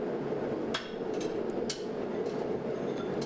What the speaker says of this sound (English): So here I'm drifting the eye on these hammer blanks using